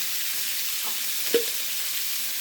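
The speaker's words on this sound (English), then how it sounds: "we're going to saute that till they get, like we did yesterday, till they get a nice golden brown" Garlic and onion saute in a pan for bacon cheeseburger soup, giving an even, moderate sizzle throughout with a single brief clink of a utensil midway.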